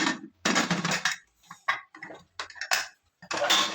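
A pressure cooker lid is fitted and closed: a few sharp metallic clanks and scrapes in short separate bursts, close and fairly loud, with quiet gaps between them.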